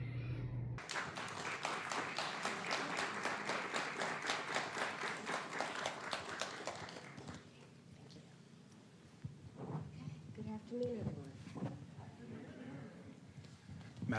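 An audience gives slow applause, with evenly spaced single claps beating steadily for several seconds and then fading into a muffled room murmur with voices.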